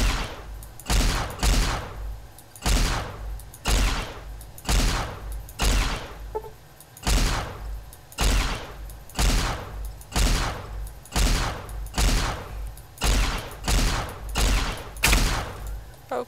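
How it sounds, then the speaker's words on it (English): Gunshots in Fallout New Vegas fire in a steady, evenly spaced rhythm of about one loud, booming report per second, each with a short decaying tail, continuing for the whole stretch. "If you keep shooting like that, then you're gonna run out of ammo sooner than later."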